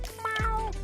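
Gary the snail from the SpongeBob cartoon gives a single short, close meow, clear and cat-like, with steady low background hum.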